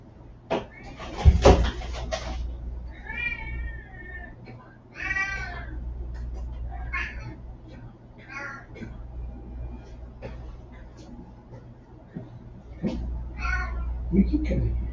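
A pet cat meows indoors, a few clear calls spread across the stretch, close to the listener, with a person talking in between and some household knocks.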